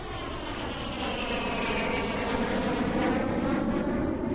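An airplane in the video game Heliophobia drones steadily overhead, a loud broad roar with a slowly shifting whine, constant and alone for the whole stretch.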